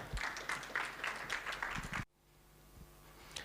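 Audience applause welcoming a speaker onto a stage at a Web3 talk, a burst of clapping that cuts off abruptly after about two seconds, leaving quiet room tone.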